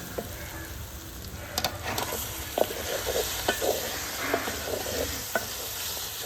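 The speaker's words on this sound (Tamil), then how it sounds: "இப்போ கட் பண்ணி வச்ச கத்திரிக்காவை போட்டு நல்லா அந்த எண்ணெயிலேயே நல்லா வதக்கி விட்டுக்கலாம்" Cut brinjal sautéing in hot oil with softened tomato for an anchovy (nethili) fish curry, a steady close sizzle broken by frequent scraping stirs of a spatula in the pan, with no talking.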